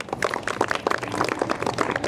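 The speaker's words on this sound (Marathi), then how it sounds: "जोरदार टाळ्या." Audience applause on a Marathi radio quiz show broadcast from Akashvani Mumbai, a short burst of dense, steady clapping at moderate level.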